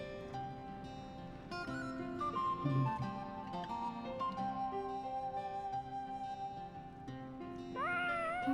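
A cartoon cat in a Japanese anime meows repeatedly over a dense, tonal music score, the cries rising near the end above steady background sound.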